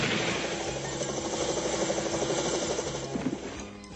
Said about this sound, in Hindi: ये तो अच्छा हुआ कि मैं प्रोफेसर कीन बीन के हेलीकॉप्टर हेलमेट साथ ले आया था